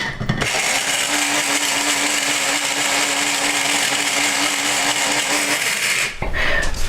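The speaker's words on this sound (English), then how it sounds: "I transfer it to something that's smaller, namely a coffee grinder" An electric coffee grinder grinding dried herbs into powder whirs loudly and steadily for several seconds, a high buzzing motor whine that starts abruptly and cuts off near the end.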